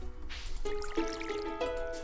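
Crops being watered in the farming video game Stardew Valley: a splashy, trickling pour with a few bright drip-like bursts, playing over sustained background music tones.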